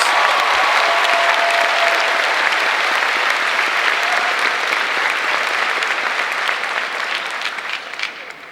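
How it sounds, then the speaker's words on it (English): A commencement-ceremony audience gives a symphonic orchestra a long, loud round of applause, dense crowd clapping that holds steady for several seconds and then gradually thins out. "Let's give them another big round of applause."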